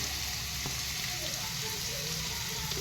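Chopped onions fry in a pan with green chili and garlic paste, giving a steady, soft sizzle with a faint stir throughout and no talking.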